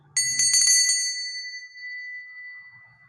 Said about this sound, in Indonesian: saya akan memulai dengan ditandai lonceng berbunyi.